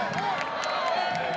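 A big student section of high school football fans at a Friday night Mount Zion game, a dense steady roar of cheering and shouting voices, loud and sustained throughout.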